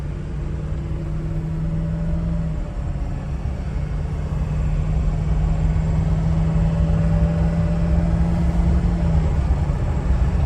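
The 6.0L Powerstroke diesel V8 in a 2003 Ford Excursion Eddie Bauer 4WD runs with a steady, loud, droning rumble and a constant low hum that holds without pause for about ten seconds.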